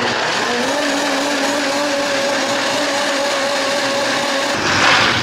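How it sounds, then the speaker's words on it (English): A blender runs steadily and loudly, blending a pumpkin cold brew with cinnamon and milk, its motor hum constant for about five seconds before a brief surge of louder whirring near the end. "Now we're gonna pop the lid on this baby and get to blending"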